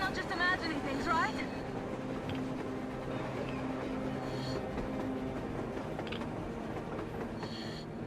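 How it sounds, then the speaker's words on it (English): A train running on the surface in the video game Metro, a steady low rumble filling the whole stretch with brief higher squeals, heard loud and close with voices speaking over it. "A train! A damn train on the surface!"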